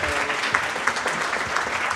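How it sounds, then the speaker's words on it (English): Dense audience applause after a data science talk, many hands clapping steadily at an even level, with a few louder individual claps standing out. "Give them a round of applause."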